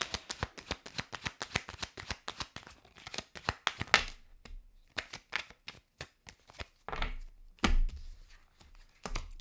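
A deck of tarot cards being shuffled close by, a dense run of quick papery riffles and slaps for about four seconds, then sparser separate card flicks and taps with short pauses.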